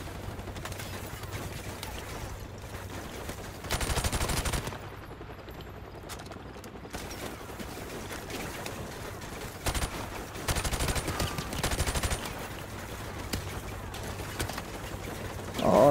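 Bursts of automatic gunfire in Call of Duty: Modern Warfare Remastered crackle in rapid volleys amid a steady background din, with several louder clusters of shots spaced through the scene.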